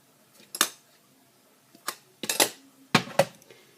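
A spoon clatters against a bowl while mixing cake batter with egg and granulated sweetener, giving irregular scraping knocks in bursts, close and fairly loud with quiet gaps between.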